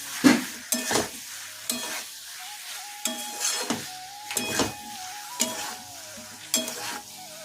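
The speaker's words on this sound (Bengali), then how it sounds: "সেদ্ধ হয়ে গেছে, মা পোস্তটা ঢেলে দিচ্ছে।" Poppy seed paste stirred into boiled, frying potatoes in a pan: a spatula scrapes in regular strokes about once a second over a steady, close sizzle, with no talking.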